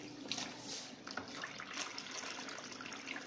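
Water pours from a motor-driven automated irrigation system on a crop field, a steady soft hiss and splash of flowing water with faint gurgles, fairly quiet and continuous.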